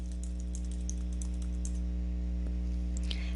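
Steady typing on a computer keyboard: quick, irregular clicks in close succession over a constant low electrical hum, with no talking.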